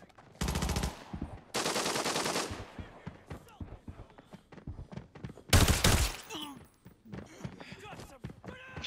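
Automatic gunfire in the video game Arena Breakout, several loud sustained bursts of rapid shots separated by quieter gaps, with players talking over the action.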